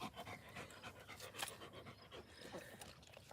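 A dog pants outdoors on a hot day, quick rhythmic breaths repeating throughout, soft and close with no talking.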